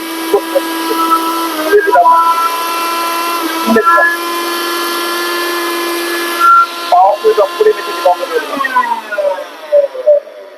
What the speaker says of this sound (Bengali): এটা প্রচন্ড একটি পাওয়ারফুল মেশিন আমরা সুইচটি অন করলাম